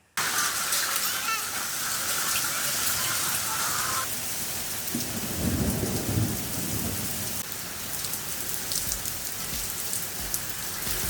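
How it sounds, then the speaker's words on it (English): Severe thunderstorm rolling over the Gold Coast, with steady rain hissing throughout and a low rumble of thunder swelling midway before fading back under the continuous downpour. "here on the Gold Coast, we just had severe thunderstorms rolling through over the last couple of days"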